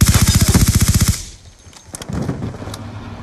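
A close, loud automatic weapon in a shooter video game fires a rapid, even burst of about fifteen shots, then cuts off into quieter game ambience with a few faint clicks.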